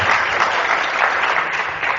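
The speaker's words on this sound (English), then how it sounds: "if we just have another round of applause for Wayne" A room audience at an anti-racism social work presentation in Bradford claps steadily and loudly for two seconds, a dense, continuous wash of applause with no talking over it.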